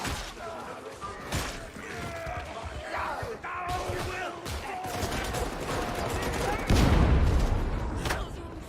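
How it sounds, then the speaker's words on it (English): Video game gunfire during a boss fight, rapid bursts and volleys crackling continuously under loud shouting voices, with a heavier blast near the end. "Point and shoot, military style."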